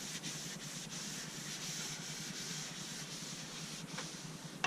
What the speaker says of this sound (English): So we're going to be rubbing this back and forth,